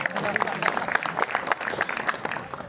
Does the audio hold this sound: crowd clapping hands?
yes